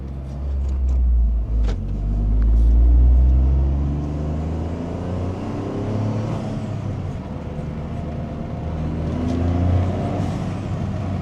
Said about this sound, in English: Definitely a little more growl, and then you obviously get the suction noise and definitely a lot more blow-off valve noise too.